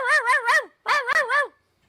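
Human voices imitate puppies, giving two quick bursts of high, yipping bow-wow barks, three short yaps each, clear and close with no other sound.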